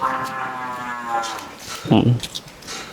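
A cow in a cattle pen gives a long, drawn-out moo up close, followed by some shorter shuffling noises and a brief voice in the background.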